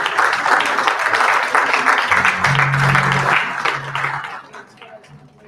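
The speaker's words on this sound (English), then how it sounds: "Please, big round of applause." Sustained audience applause at an international conference on radiation awareness and detection, given during a memento presentation; dense, steady clapping that thins and fades out over the last second.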